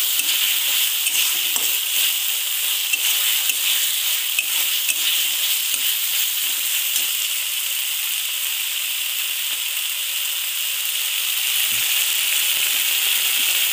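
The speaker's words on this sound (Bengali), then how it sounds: "টমেটো কুচি দিয়ে এবারে ভালো করে বেশ কিছুক্ষণ নাড়াচাড়া করবে" Chopped tomato and red chilli powder stirred and frying in spiced oil in a pan, a steady close sizzle and hiss with soft spoon scrapes throughout, no voices.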